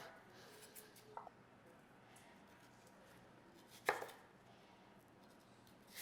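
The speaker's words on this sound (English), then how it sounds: "Now I'm just going to cut them all in half." A knife slices apple pieces in half, giving a couple of soft, close cuts against a quiet, faintly hissing kitchen background.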